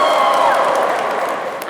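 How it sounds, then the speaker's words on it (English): Cheering and clapping rise from a crowd in the South Transept of Westminster Abbey at an awards ceremony, a dense, reverberant swell that fades slightly toward the end. "And a cheer from the South Transept."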